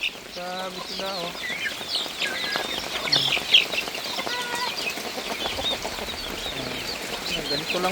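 Many chicks chirp and peep in high, busy bursts, mixed with some clucking and wing flutters, with a voice speaking now and then.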